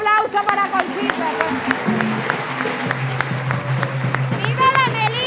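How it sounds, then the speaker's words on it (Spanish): Audience applause at a community militia gathering in a Venezuelan neighborhood, scattered clapping mixed with cheering voices and chatter, with an amplified voice speaking over it. "Un aplauso para Conchita."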